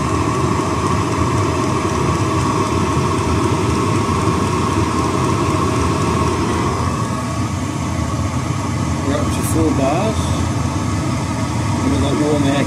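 A Chinese diesel heater with a suspected fault runs with a constant loud rumbling roar, its fuel pump still going, while a voice talks over it.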